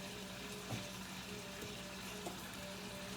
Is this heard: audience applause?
no